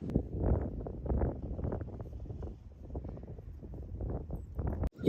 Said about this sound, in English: it's super windy out